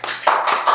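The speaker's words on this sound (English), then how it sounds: "a round of applause for Leon for agreeing to do this" At a talk event, a small audience gives a short round of applause, a few distinct, evenly spaced claps heard up close.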